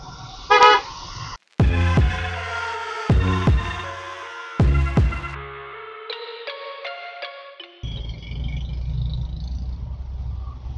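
Car horns honk in a traffic jam, several loud separate toots and longer blasts from nearby vehicles, some overlapping in tone, followed by a lower steady engine and road rumble.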